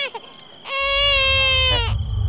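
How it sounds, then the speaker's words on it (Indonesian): A baby lets out one sustained, wailing cry, loud and close, preceded by a few soft whimpering sounds and followed by a low rumbling background. "Lu berdua denger bayi nangis nggak?"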